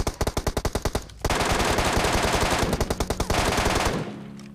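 MK14 rifle fire in a mobile battle-royale shooter: rapid single shots in a tight, even rhythm, then a longer dense burst, then another string of shots, loud and close, ending in a short rumbling tail.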